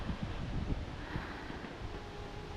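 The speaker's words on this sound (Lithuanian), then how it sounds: "kruta vėjas, pučia" Wind blows outdoors around a rural house with moving trees, giving a steady low rumble and buffeting on the microphone, with no voices.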